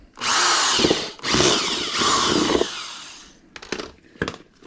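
A power drill whines loudly in three long bursts, then a few shorter, choppy revs as it finishes.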